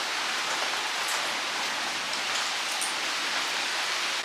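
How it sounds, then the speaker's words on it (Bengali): Heavy monsoon rain pours down in a dense, unbroken hiss, drumming on surfaces close by during a storm, with no voices. "প্রচুর তো বৃষ্টি হচ্ছে, একদম মুষলধারে।"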